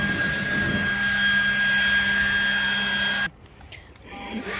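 A leaf blower runs with a steady, loud, breathy roar for about three seconds, then cuts off abruptly and leaves quieter background sound.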